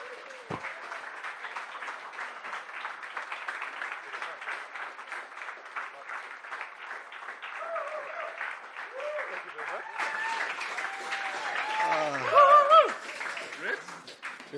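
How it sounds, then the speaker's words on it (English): A Startup Grind Cape Town audience gives a standing ovation for two guest speakers, with sustained clapping throughout and voices and cheers rising over it toward the end as the applause swells. "Give a massive round of applause for Brett and Brad."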